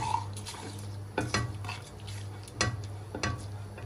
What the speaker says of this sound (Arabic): دلوقتي بقى كده هشوح بس التوابل بتاعتي كده شويه صغيرين لغايه اما اشم الريحه بتاعتهم كده